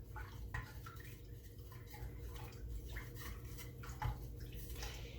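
Ginger beer mixture with sugar and ginger stirred by hand, soft swishing and light utensil clinks against the container, fairly quiet with no voices.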